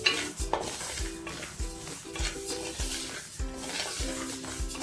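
About 150 grams of mustard seeds dry-roasting in a pan for chicken pickle, a soft sizzle under rhythmic, evenly spaced scrapes of a spoon stirring against the metal, close up, no talking.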